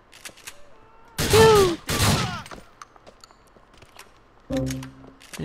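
Gunfire from the video game Grand Theft Auto IV comes as loud, close bursts of shots in two clusters near the start and another near the end, with a voice partly mixed in.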